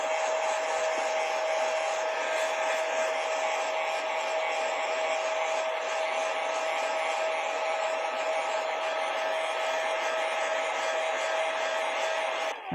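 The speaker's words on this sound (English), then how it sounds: "heat it up gently with a hairdryer," A hair dryer runs steadily and close for the whole stretch, blowing heat onto the adhesive of a chin mount for a Shoei NXR2 motorcycle helmet, its constant whirring hum holding an even tone with a faint buzz and no talk.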